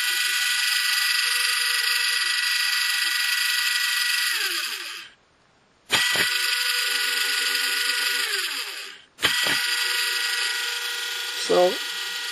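The motor of a disassembled Black & Decker 24V cordless lawnmower runs with a high, steady electric whine, cutting out briefly twice and starting again each time, close and loud with no voices.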